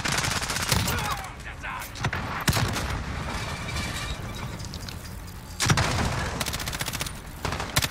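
Rapid bursts of assault-rifle gunfire from a Modern Warfare match crackle loudly over a constant noisy game background, with dense volleys at the start, middle and end.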